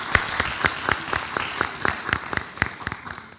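Audience at a school board of education meeting claps steadily and fairly close, a dense run of individual hand claps lasting several seconds without talk.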